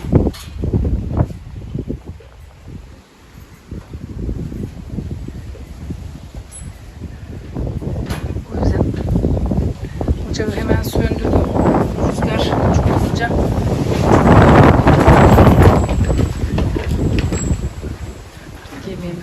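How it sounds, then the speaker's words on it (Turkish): Strong wind roars and gusts against the microphone, swelling louder toward the middle, with a rustling, blustery texture throughout. "ortalıkta da şöyle bir rüzgar fırtına var yine"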